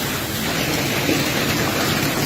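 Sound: hailstones hitting a fibre roof

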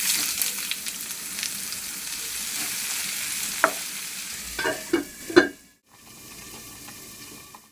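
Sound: frying ash gourd in a pan

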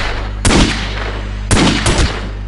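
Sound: Magnum gunshots in The Godfather PC video game

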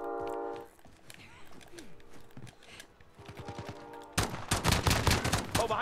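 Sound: pistol gunfire in a video game

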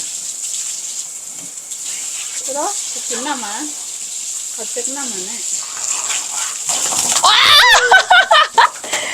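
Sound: water running while bathing children

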